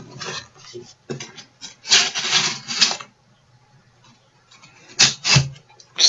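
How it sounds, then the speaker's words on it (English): A trusty knife slitting packing tape on a cardboard box: two bursts of scraping, rasping cuts, a pause of near silence, then a shorter pair of strokes, all close up with no talking. "Slide right through the tape."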